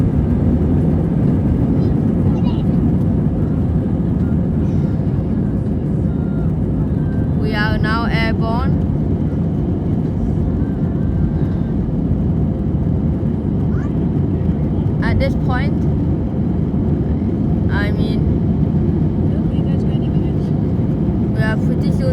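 Cabin view of an Airbus A320 jet on its takeoff roll and rotation: a loud, steady engine roar and rush that fills the whole clip, with brief speech breaking in over it.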